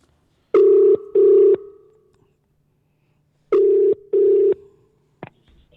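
Two double-burst telephone ring tones, each a pair of short buzzing pulses, separated by a long pause; clear and fairly loud with no talking.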